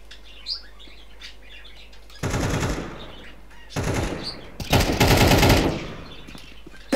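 Gunfire in the video game Counter-Strike 2, with bursts of rapid automatic fire in three loud strings separated by quieter stretches of faint background game sound.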